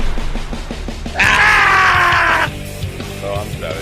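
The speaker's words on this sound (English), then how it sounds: "Maybe I shouldn't scream." A loud, sustained scream bursts out for about a second, set between rapid rhythmic thumps and tapping, with a voice grunting faintly before and after.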